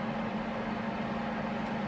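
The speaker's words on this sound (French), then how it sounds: "J'ai fermé la porte du micro-ondes parce que ça tourne" A microwave oven runs with its door shut and turntable rotating, giving a steady, even hum with a strong low drone, continuous and unchanging throughout at close range.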